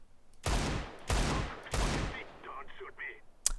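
Three loud, evenly spaced Desert Eagle pistol shots in a video game, each followed by a short ringing decay, then softer clicks and a faint sharp tap at the end.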